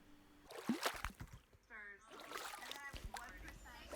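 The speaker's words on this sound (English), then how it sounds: "We hear the splashing of water." Water splashes and sloshes in uneven bursts during house cleaning, a nearby wet slap standing out midway, with a faint murmur of voices in the background.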